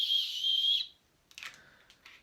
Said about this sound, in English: blow whistle.